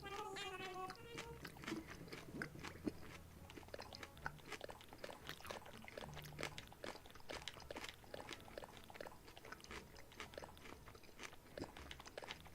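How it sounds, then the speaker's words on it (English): Salad of cabbage, cranberries, pumpkin seeds, feta and mandarin oranges chewed close to the mic, a steady run of wet crunches and bites repeating throughout. "Am I chewing too loud?"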